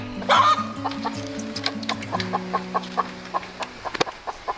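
Several chickens, including roosters, cluck in short, repeated bursts, with a sustained low hum running underneath and a few sharper calls standing out near the start.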